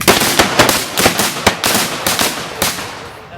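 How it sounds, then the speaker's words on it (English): Muzzleloader shotguns fire during a pheasant shoot, a rapid volley of about ten loud, sharp bangs from several guns overlapping in quick, irregular succession outdoors, then fading toward the end. "Finally, it's time to empty the guns for the last time today, and Mark decides to have a bang himself."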